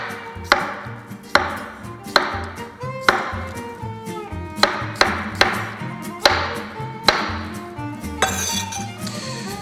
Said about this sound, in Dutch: Dan snijden we daar plakjes van.